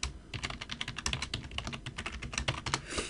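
Rapid keystrokes on a computer keyboard, close and fairly quiet, in an irregular steady patter with no talk.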